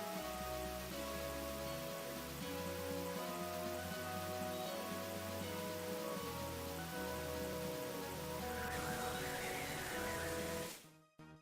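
Heavy rain from Pokemon Black Version patters steadily for several seconds in a dense wash of sound blended with looping game music, then cuts off abruptly at the end.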